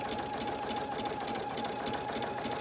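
Embroidery machine running basting stitches to attach fabric to tearaway stabilizer in the hoop, a close, steady, rapid mechanical whirr with no pauses.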